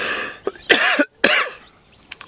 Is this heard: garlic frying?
no